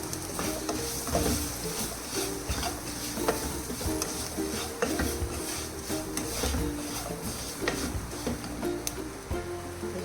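Chicken stirred in a pan with garlic and shallots, a steady low sizzle of frying broken by repeated scraping and clattering of the spoon against the pan, close and continuous for ten seconds.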